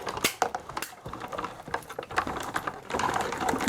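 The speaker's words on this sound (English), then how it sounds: "we'll go ahead and sandwich our die between our cutting pads, and we will cut out" A Sizzix die-cutting machine presses a die sandwiched between cutting pads through paper, producing a close series of mechanical clicks, ratcheting and rolling grinding noises in an uneven rhythm as the plates feed through.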